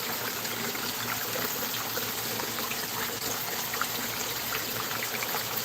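A small creek trickles and babbles in a steady, constant wash of water noise, with no voices over it.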